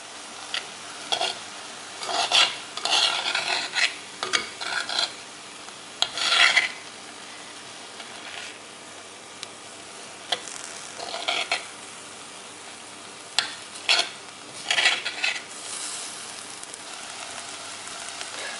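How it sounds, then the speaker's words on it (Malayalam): Dried fish being stirred in a cooking pan for a Kerala-style peera, with intermittent bursts of scraping and rubbing from a spoon against the pan, spaced by quieter gaps. "നമുക്കിനി ഇതൊന്ന് ഇളക്കി കൊടുക്കാം"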